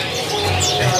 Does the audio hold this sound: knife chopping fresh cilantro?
no